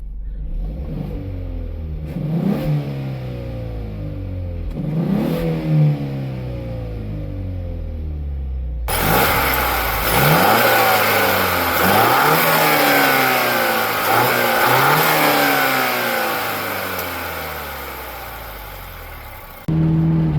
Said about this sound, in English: we're gonna do a rev here with the valves closed. Try and hear some intake noise here